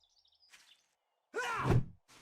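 A crow in a video game gives a single harsh, raspy caw, loud and close, after faint high chirps and a brief rustle, with no talking.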